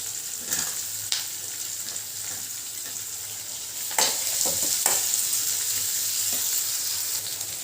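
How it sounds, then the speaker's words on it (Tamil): Fennel seeds, onion, tomato, curry leaves and crushed garlic sauté in hot oil, a steady close sizzle and hiss with occasional stirring scrapes and spatters, no voices. "சோம்பு வெங்காயம் தக்காளி கருகப்பிலை பூண்டு நச்சு வச்ச பூண்டு எல்லாத்தையும் போட்டு வதக்கியாச்சு"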